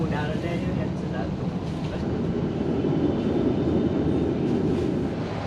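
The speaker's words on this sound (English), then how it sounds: "let's jump back in that tram, and I have just missed one" A modern city tram running along street tracks in Tallinn, a steady loud rumble and rolling noise close by for several seconds, with no speech over it.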